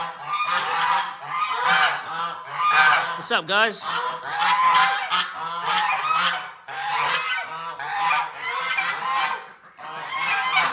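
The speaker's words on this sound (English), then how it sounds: "There's the geese." A flock of geese honks loudly and continuously at close range in a snowy yard by a chicken coop, calls overlapping in dense bursts while someone briefly speaks over them.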